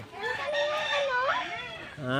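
High, thin chirping and peeping from a young bird, with wavering calls close by and a person's voice heard briefly.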